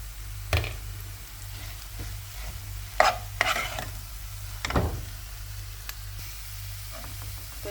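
Potatoes frying in oil with dried chilli in a pan for mashed potato, stirred with a few distinct scraping strokes over a low steady sizzle, close and fairly quiet.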